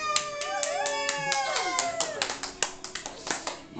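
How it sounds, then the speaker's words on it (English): Girls seated on a couch applaud during a Cornflakes party game, with quick close claps growing distinct toward the end amid high, excited voices and chatter. "the only people that are applauding is the girls right there on the couch"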